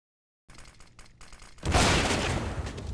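Counter-Strike gunfire: a few sharp, scattered shots, then a sudden loud burst of sustained rapid fire that continues to the end.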